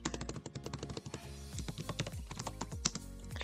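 Rapid, steady keystrokes on a computer keyboard while entering database code, with close, crisp clicks that continue without pause and no voices.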